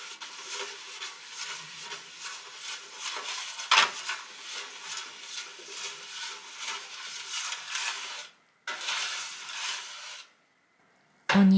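Small clinks and rattles of an aluminium cake mould being lightly oiled and set into an air fryer, with soft handling noises, a couple of sharper knocks, and brief pauses near the end.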